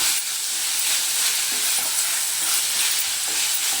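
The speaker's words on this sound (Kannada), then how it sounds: "ಇದನ್ನೀಗ ಜೋರು ಹುರಿಯಲ್ಲಿ ಈ ಥರ ಬಿಸಿ ಮಾಡಿ, ಜೋರು ಹುರಿ ಇರಬೇಕು" Vegetables stir-fry over high heat for fried rice, a dense continuous sizzle and hiss with soft stirring scrapes, close and steady without talk.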